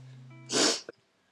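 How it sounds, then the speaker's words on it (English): A single sharp sneeze bursts out loud and close, followed by a brief nasal sniff, with a faint steady hum in the background. "That's sneeze."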